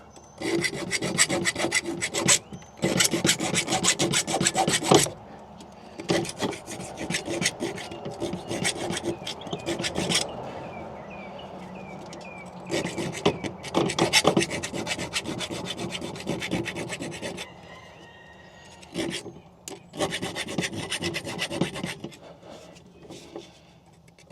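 A burr is filed off a part on a 1972 Peterbilt 352 cabover heavy wrecker. Close, rhythmic rasping strokes come in repeated runs separated by short pauses.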